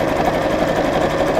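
Close and loud, a sewing machine hums in a steady, fast whir while stitching lined-up fabric edges, with no pause for the whole short stretch.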